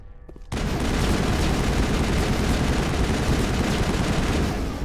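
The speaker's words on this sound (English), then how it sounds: "That firing pattern on this gun is nuts." Sustained rapid gunfire from a video game gun in Mass Effect, a dense continuous burst starting abruptly after a brief quiet moment and holding loud and steady throughout, with no talking.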